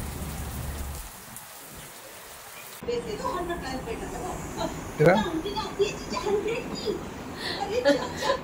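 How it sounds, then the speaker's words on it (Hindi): Rain begins falling on a sunny day, a broad steady patter of drops that swells in after a quiet start, with a few scattered sounds and brief chuckling mixed in. "ये देखो आती बारिश शुरू हो गई"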